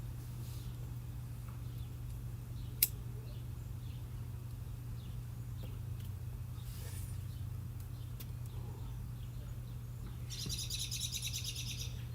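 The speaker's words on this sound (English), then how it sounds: "Hear the beautiful birds outside chirping." Birds chirp outdoors in a residential neighborhood on a fine day, with scattered calls over a steady low hum and a denser burst of twittering near the end; no one speaks.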